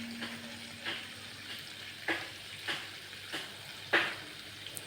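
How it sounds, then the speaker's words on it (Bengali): Fish fry in hot oil in a pan with a quiet, continuous sizzle, punctuated by a handful of soft crackling bursts and stirring clicks spaced about a second apart. "দেখুন মাছগুলো মোটামুটি ভাজা হয়ে গেছে"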